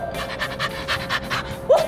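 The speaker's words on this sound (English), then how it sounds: "It's a dog!" A dog pants rapidly and steadily up close, a rhythmic breathy huffing that stays loud and even throughout.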